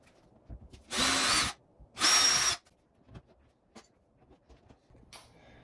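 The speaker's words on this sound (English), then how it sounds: "I am now gonna screw the drywall anchors in using a 1¼ inch drill bit" A power drill drives drywall anchors into a wall while mounting the brackets for a large black-framed mirror. Two loud, close whirring bursts of about half a second each are followed by faint tapping and handling noises.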